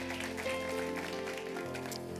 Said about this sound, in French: Est-ce qu'on peut applaudir Jules?